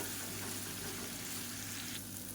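Raw banana slices shallow-fry in a pan with a soft, continuous sizzle and fine crackle. The sound stays quiet and even for a few seconds, with no voices.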